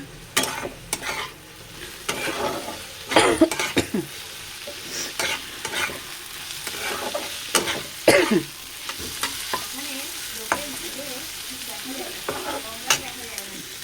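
Food frying in a pan while it is stirred: a continuous low sizzle broken by repeated scraping strokes and clinks of the spoon, some louder than others, coming close and at an uneven pace over about fourteen seconds.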